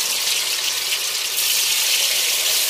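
A steady hissing rush of water pouring, continuous and fairly close, growing slightly stronger midway.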